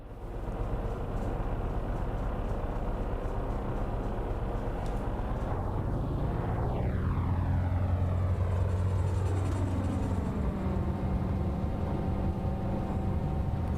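Twin piston engines of a FlyingIron P-38L in Microsoft Flight Simulator 2024 roar steadily at takeoff power, a dense continuous drone whose pitch sweeps and shifts as the aircraft accelerates.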